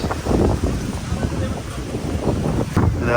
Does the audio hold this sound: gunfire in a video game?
no